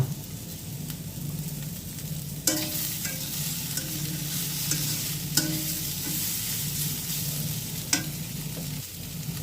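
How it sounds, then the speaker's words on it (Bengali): Bitter gourd (ucche) sizzles in a pan, a steady frying hiss with several sharp spatula knocks and scraping stirs spaced a few seconds apart. "হয়ে গেলে দু একটা নাড়াচাড়া দিয়ে উস্তাটা নামিয়ে নেব"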